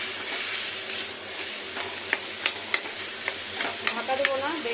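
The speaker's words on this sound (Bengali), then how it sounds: "ফ্রাই হচ্ছে লবণ দিয়ে।" Vegetables frying with salt in a hot pan for a vegetarian dish, a steady close sizzle with stirring scrapes and several sharp ticking clicks toward the end, with no talking.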